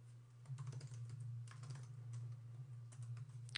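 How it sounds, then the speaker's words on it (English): Typing on a computer keyboard, a quiet run of uneven key clicks over a steady low hum, close and faint, with no one talking. "we simply type in the path"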